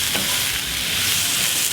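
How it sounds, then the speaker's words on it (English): Caramelized mushrooms sauté and sizzle in a hot pan as a spoon stirs them, a loud, close, continuous frying hiss. "saute this all up together"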